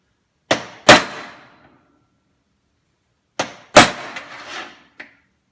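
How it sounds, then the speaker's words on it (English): Two pairs of sharp metallic strikes, close and loud, of a hammer hitting a center punch to mark scrap metal for drilling, separated by a few seconds of silence. "center punch them for the drill press"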